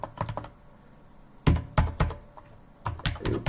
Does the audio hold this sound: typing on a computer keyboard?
yes